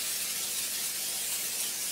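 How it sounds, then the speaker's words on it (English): Nonstick cooking spray hissing steadily from an aerosol can onto the bottoms and sides of cake pans, a continuous close airy spray with no talking. "We're going to prep the pans by spraying the bottom and sides with some nonstick spray."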